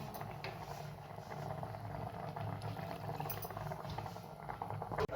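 Greens simmering in a covered pot on a stove at high heat, a steady low bubbling and hiss that holds evenly throughout, with a small clink at the very end.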